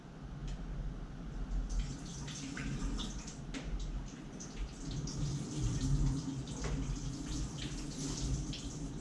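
Water pours from a pot through a drainer into a kitchen sink, a continuous splashing rush with scattered drips and clatter, moderately near and fairly quiet throughout.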